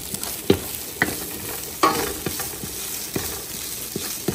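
Vegetables sautéing in a hot pan with oyster sauce and spring onion, a steady sizzle broken by repeated scrapes and clacks of a utensil stirring, close and alone.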